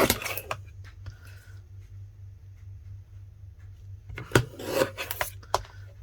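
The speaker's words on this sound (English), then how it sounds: "I'm going to trim that off." A mini paper trimmer slides its blade along cardstock in two short rasping bursts, one at the start and a longer pass near the end, close and fairly quiet over a steady low hum.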